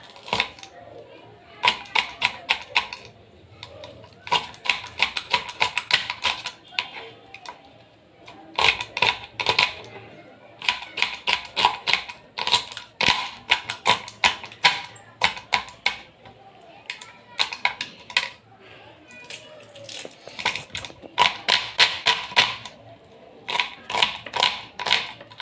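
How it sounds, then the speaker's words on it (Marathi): A knife finely chops onion on a board for fritters, fast rhythmic bursts of close, crisp taps separated by short pauses, with someone talking in between. "चला मग बारीक कापून घेऊ कटाकटा."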